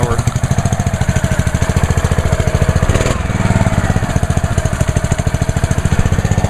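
A Ryobi 3100 psi pressure washer's gas engine, roughly 6.5 horsepower, runs steadily up close with a fast, even chugging pulse and no break in its loud drone.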